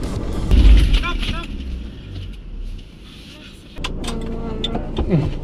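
A camper van stuck fast on a UK trip strains its engine in low, labouring bursts, with a surge early on then a rougher steady drone, while people talk over it.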